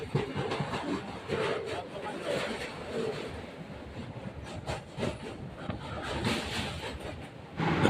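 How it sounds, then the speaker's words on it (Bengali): A passenger train on the Kolkata to Guwahati line picks up speed, its wheels rumbling and clattering on the rails in a steady, fairly close wash of noise with faint rhythmic knocks. "আমাদের ট্রেন নিজের গতি বাড়িয়ে তার সমহিমার জানান দিল এবং এগিয়ে চলল সামনের গন্তব্যের দিকে"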